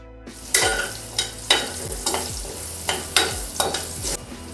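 Cumin seeds, small green chillies, asafoetida and turmeric fry in hot oil with a bright sizzle, punctuated by about seven rhythmic stirring scrapes of a spatula against the pan, close and loud.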